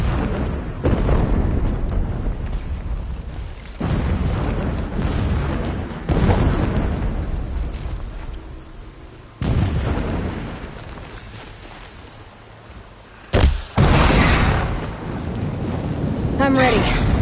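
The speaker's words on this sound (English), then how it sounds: "Explosions in the distance. Pay that no mind." Distant explosions rumble in Horizon Zero Dawn Remastered: a series of deep booms at uneven intervals, each fading into a low roar, with a sharper, closer blast near the end.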